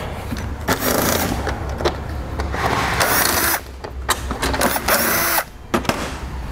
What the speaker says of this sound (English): Now we're going to remove all these Phillips screws going across the front edge here of our bumper cover.